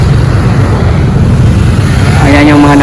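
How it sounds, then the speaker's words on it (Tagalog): Motorcycles and cars crowd a road in Pasig heading out toward Marikina and Marcos Highway, giving a steady, loud rumble of engines and tyres that runs throughout, with a voice briefly heard near the end. "Ayan yung mga nakukumpulan ng mga motor, mga sasakyan."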